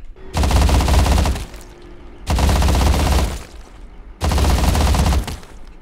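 A Bradley APC in the game Rust fires its gun in three long, loud bursts of rapid automatic shots, each lasting over a second and separated by short pauses.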